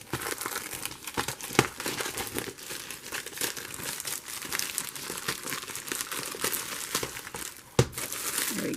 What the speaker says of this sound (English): Let me just get the plastic off here for a second.